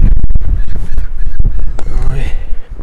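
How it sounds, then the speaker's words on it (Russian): Seagulls cry loudly and harshly on a snow-covered, windy winter beach by a stormy sea, with repeated close calls over rough wind noise. "Ой, чайки аж кричат от холода, наверное."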